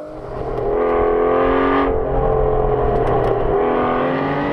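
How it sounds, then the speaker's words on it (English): A V12 supercar engine, Ferrari F12, Lamborghini Aventador or Aston Martin Vanquish, revs loudly and steadily up close, its rising harmonic drone holding strong throughout with a brief shift partway through. "That V12 is absolutely epic."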